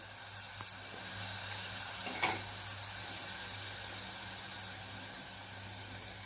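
Herbs for a black cumin and false daisy hair oil sizzle quietly in hot oil over a low flame, a faint continuous hiss with one brief scrape of stirring over a low background hum.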